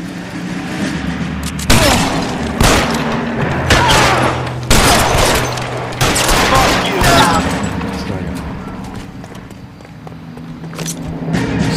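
A shootout in L.A. Noire is full of repeated gunshots and scattered fusillades with booming reports. Distant engine noise runs underneath, and voices shout in the middle of the firefight.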